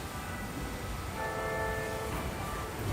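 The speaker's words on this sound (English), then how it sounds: "Bells ring, they tell us to stop." A bell rings with a sustained, fairly soft tone in a meditation setting, over a steady background hiss and with no talking.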